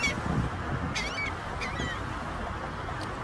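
Birds beside the water give several short, sharp honking calls in quick bursts over a quiet, breezy background, one bird growing noisy during a tussle.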